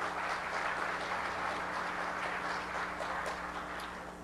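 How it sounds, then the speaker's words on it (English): Audience at a Defcon conference talk applauds a newly introduced team member, a soft, fairly distant wash of clapping that holds steady for a few seconds and then begins to fade. "Everybody give our newest goon, Tyler, a big round of applause right there."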